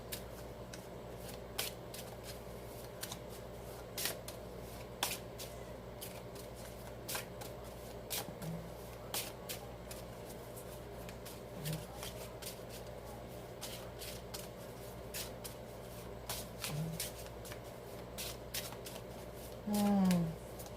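Imperial Dragon Oracle cards being shuffled by hand, a soft riffling and rustling that runs steadily and fairly faint for about twenty seconds, with scattered small taps and a brief louder flutter near the end.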